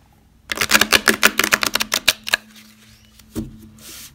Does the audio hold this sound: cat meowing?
no